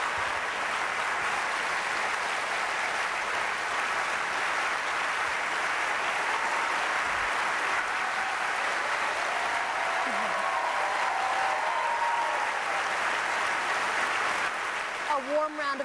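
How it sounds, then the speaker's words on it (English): Sustained applause from a television studio audience, a broad, even wash of clapping that holds for many seconds before a voice cuts in right at the end. "A warm round of applause."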